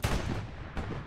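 High-explosive artillery rounds fired in the World War II game Hell Let Loose: a loud, close boom at the start, then a second blast about three-quarters of a second later, with no talk.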